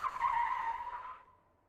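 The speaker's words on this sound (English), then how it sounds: "plenty of handbrake turn practice" A Citroën Ami skids through a handbrake turn, its tires giving one loud, close squeal that holds steady and then fades out after about a second, with no talk.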